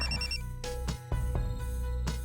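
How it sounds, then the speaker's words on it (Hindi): A telephone rings indoors in a Pakistani drama scene, a steady electronic ring repeating in short regular bursts, fairly loud and alone with no talk. "अब इस वक्त किसका फोन आ गया?"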